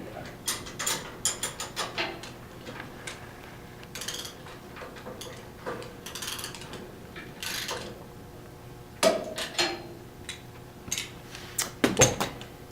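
Metallic clicks, clanks and ratcheting knocks come from tightening bolts on industrial machinery, scattered irregularly with pauses between bursts, close and moderately loud, with no talking.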